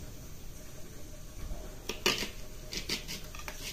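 An onion is sliced lengthwise with a knife, a few sharp, close cutting clicks and knocks against a quiet kitchen background, clustered toward the end.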